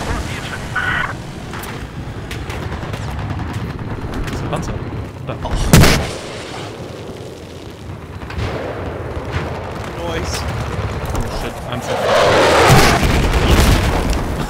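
Tank cannon blasts and explosions in the Battlefield 4 Final Stand game, a loud deep boom near the middle over a constant rumble of battle noise, with a player talking throughout.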